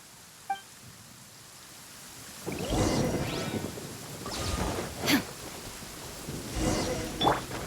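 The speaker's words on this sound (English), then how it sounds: "Uh-oh! Lightning storm!" Thunder rolls and cracks in a lightning storm in the video game Genshin Impact, several low booming rumbles with sharper crashes over a steady rain-like hiss, moderately loud, no talking.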